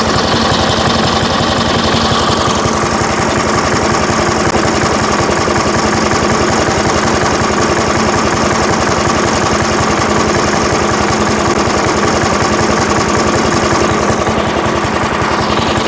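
A small engine on a vintage Firestone lawnmower revived after twenty years runs continuously with a loud, rough chugging drone close by, its tone shifting slightly as the carburetor is adjusted.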